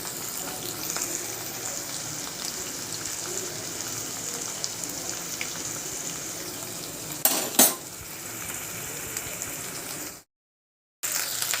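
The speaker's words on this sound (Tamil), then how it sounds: "இதில் வந்து 3 டேபிள் ஸ்பூன் இஞ்சி பூண்டு பேஸ்ட்டு நம்ம சேர்த்து நல்லா வதக்கி விட்டுக்கலாம்." Ginger garlic paste sautéing in a pan for a Kerala-style beef gravy, a steady low sizzle with light stirring and utensil scrapes, one brief louder clatter near the end, then a short gap of silence.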